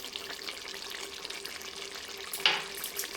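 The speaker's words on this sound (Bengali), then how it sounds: "চিনিটা দিয়ে একটু নাড়াচাড়া করে নেব।" Eggplant and Malabar spinach simmer and sizzle softly in a pan as sugar is stirred in, a quiet steady frying hiss with a single brief scrape of the spoon.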